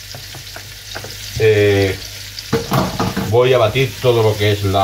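Julienned onion sizzles steadily in a pan of oil while a person talks over it, the frying hiss continuous beneath the voice throughout.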